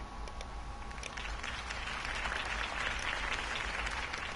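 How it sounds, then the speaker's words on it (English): Sustained applause from a crowd in a Batman video game, a dense, even wash of clapping that holds steady throughout and swells slightly toward the end. "could have heard that applause"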